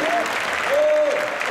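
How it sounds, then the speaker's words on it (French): Audience at Stunfest 2015 Super Street Fighter 2X tournament applauding a player, brief loud, dense clapping with faint crowd tones underneath. "on l'applaudit très fort, Zaghi"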